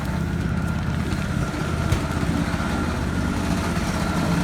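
A tractor engine in a video game, set up as a quad-burst tractor, idles with a low, steady, throbbing rumble that stays even and continuous throughout.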